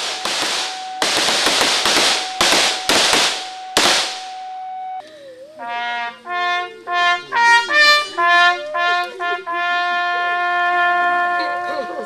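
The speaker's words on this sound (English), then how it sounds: "where he was given the last gun salute." Funeral gun salute at a burial site: a rapid series of about six sharp, loud gunshot cracks with ringing echoes, followed by a long sustained bugle call playing a slow melody outdoors.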